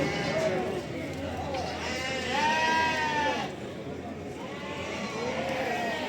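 Sheep bleat repeatedly at a livestock market in Barda, Azerbaijan. The wavering calls rise and fall over a busy crowd, and people talk nearby throughout.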